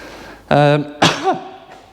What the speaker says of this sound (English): Yes, I got a cough again